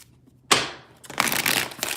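Tarot cards are shuffled close by in two quick riffles, a sharp fluttering burst then a longer rustling run, with no talking over them.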